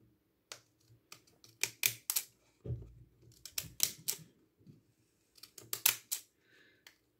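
Children's pinking scissors cut through paper in short crisp bursts of snipping, close and fairly quiet, with brief pauses between the clusters of cuts.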